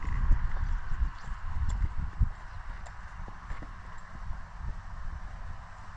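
Slow, uneven hoof clops on soft ground from a horse walking in a small circle nearby, with faint rustling and outdoor ambience throughout.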